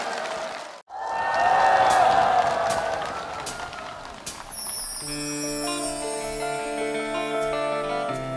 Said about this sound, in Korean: 네, 한 번 더 힘찬 박수 부탁드리겠습니다.